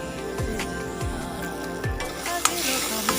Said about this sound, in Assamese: পানী অলপ দি মই এইখিনি ধুনীয়াকৈ ভাজি আছোঁ